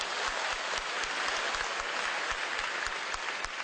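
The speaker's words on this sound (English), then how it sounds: "It's not often, actually, at academic conferences that you do hear spontaneous applause." Spontaneous applause from an audience at a machine learning conference in China, a steady dense patter of many hands clapping throughout, loud and close, with no talking.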